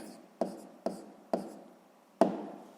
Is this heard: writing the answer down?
yes